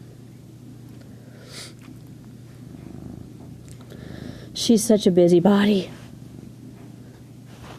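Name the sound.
domestic cat purring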